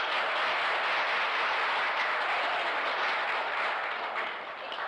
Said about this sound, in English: Please give the Georgia chapter and yourselves a warm round of applause.